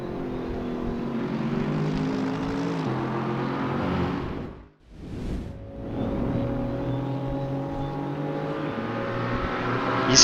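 A Mercedes race car in a CGT34 race at the Nürburgring GP circuit roars past, its steady engine note dipping sharply as it passes close by, then resumes at full throttle without any talk.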